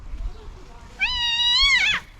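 A jealous calico cat lets out one long, loud, harmonic meow rising in pitch at the end, close to the microphone, after a moment of quiet room noise.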